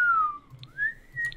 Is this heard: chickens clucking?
no